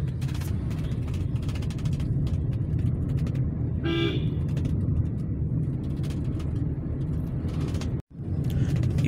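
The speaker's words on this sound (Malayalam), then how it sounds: "ഞങ്ങളിപ്പോൾ കാറിൽ പോയിക്കൊണ്ടിരിക്കുക" A car driving along a road near Palakkad, Kerala on a rainy day, heard from inside as a steady engine and road rumble, with a brief horn toot midway and a momentary cutout near the end.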